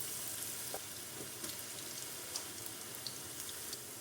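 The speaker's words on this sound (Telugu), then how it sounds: "ఇప్పుడు ఇందులో అన్నిటిని వేసుకొని గోల్డెన్ బ్రౌన్ కలర్ వచ్చే వరకు ఫ్రై చేసుకుందాం" Baby corn pieces deep frying in hot oil, a soft continuous bubbling hiss with scattered small crackles and pops, fairly faint and without voices.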